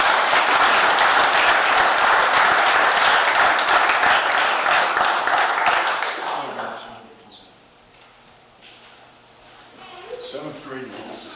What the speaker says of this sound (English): we'll do one more round of applause for him